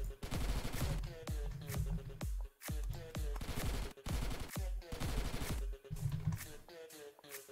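Rapid gunfire from guns in the video game Riskers rattles in loud sustained bursts, broken by brief pauses between volleys.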